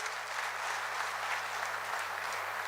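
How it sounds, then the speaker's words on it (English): Applause from a seated crowd at a defence and security expo in Kampala, a continuous dense clapping that stays steady and full for the whole stretch, with a low hum underneath and no speech. "give him a very loud round of applause"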